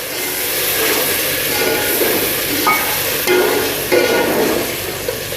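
Karela and onions fry in a pan just after a sprinkle of water, giving a loud, continuous sizzle and hiss with a few stirring scrapes and knocks, close up and with no talk.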